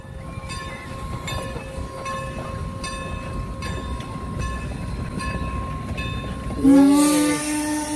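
A steam train rolls past a farm crossing in Lancaster, Pennsylvania with a steady rumble and rhythmic rail clicks, then a loud horn blast sounds close by near the end.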